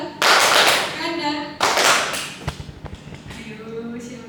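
A class of students claps in a classroom clapping game, with two strong bursts of group clapping, a few scattered single claps afterward and someone talking between them.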